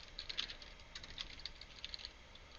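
Rapid, light clicking of keys on a computer keyboard, irregular bursts of taps at moderate distance, fairly quiet with no voices.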